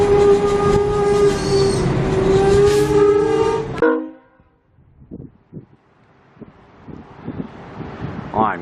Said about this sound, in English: IMU set is departing Coyle for Digby North.